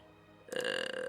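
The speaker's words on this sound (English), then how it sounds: "Burp, burp, burp, burp." A single burp erupts abruptly and close, a loud rasping belch lasting about half a second, with no talking over it.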